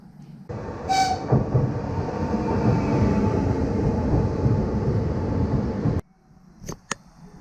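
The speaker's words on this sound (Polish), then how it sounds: "to jest mój pociąg" A train rumbles into a station and rolls past loudly, with a brief horn blast near the start, then the noise stops and a few faint clicks follow.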